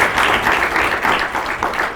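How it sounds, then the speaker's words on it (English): An audience applauds at a launch event, producing a dense, steady burst of clapping that stays close and even for a couple of seconds. "Can you give them a round of applause, please?"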